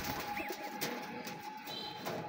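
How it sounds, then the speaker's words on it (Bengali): Pigeon coos, with a Sirazi pigeon being handled nearby, come through as soft low murmurs and faint chirps over a steady background hum, close and quiet across a couple of seconds. "অনেক সুন্দর একটা কবুতর"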